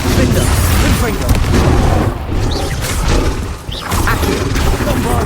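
A blasting spell explodes in Hogwarts Legacy amid a chaotic battle, with dense, loud booms and crashing bursts layered over game music, while a voice speaks over it.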